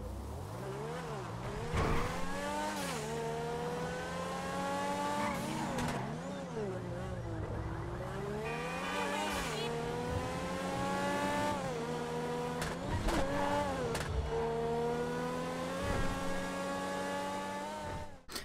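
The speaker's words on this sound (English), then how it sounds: "the overall engine noise for this car sounds really, really good as well" A Grotti X80 Proto supercar in GTA 5 revs hard through the gears, its engine pitch climbing and dropping with each shift while tires squeal and the exhaust pops, loud and continuous across the whole stretch.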